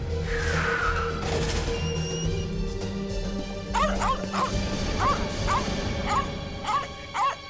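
Dogs bark up close in a string of sharp yips and barks that come at uneven intervals. A whimpering whine comes first, and a steady background hum runs underneath.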